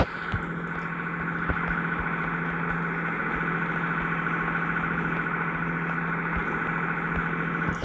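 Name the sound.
1086 farm tractor engine running while planting wheat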